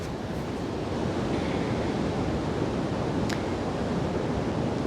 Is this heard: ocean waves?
yes